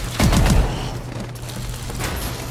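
A shotgun in a Call of Duty Advanced Warfare zombie outbreak mode fires a quick loud volley of blasts, followed by a fading rumble and low background game noise.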